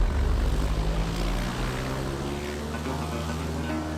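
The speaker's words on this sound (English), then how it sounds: "Here we go, we're taxiing out." A propeller aircraft with a new Sensenich prop taxis out. Its engine drones loud and close with a steady low harmonic hum that eases slightly after the first second and then holds even.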